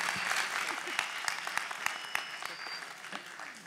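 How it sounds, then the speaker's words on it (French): Conference audience at an African Golden IT event breaks into applause, a crisp, sustained patter of many hands with sharper individual claps standing out, heard fairly close for several seconds. "on applaudit pour tout le monde."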